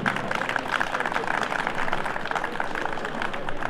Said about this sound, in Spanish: Vengan los aplausos.